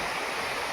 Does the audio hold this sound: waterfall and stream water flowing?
yes